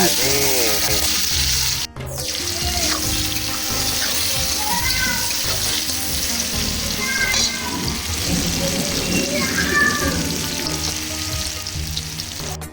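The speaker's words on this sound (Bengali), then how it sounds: "দিয়ে দিলাম তিন থেকে চারটা ছোটো সাইজের পেঁয়াজ কুচি" Finely chopped small onions fry in hot oil with a dense, continuous sizzle and crackle close by, punctuated by a clatter near the start and faint background tones.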